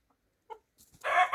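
Young roosters and pullets clucking in a yard, one brief soft cluck followed by a louder, harsher burst of cackling at the end, close by with no talk.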